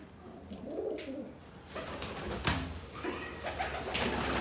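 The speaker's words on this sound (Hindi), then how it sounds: "ये प्योरिटी में रामपुरी कबूतर है" Rampuri pigeons coo nearby in a low, throaty warble, with soft rustling and a brief flutter of movement around them.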